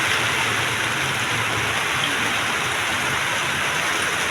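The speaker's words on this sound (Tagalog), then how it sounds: "So tingnan nyo po ang sama ng ating panahon ngayon. O puro ulan." Heavy typhoon rain from Typhoon Tino pours steadily in Leyte, a dense, continuous hiss of downpour on surfaces, loud and unbroken throughout with no voices.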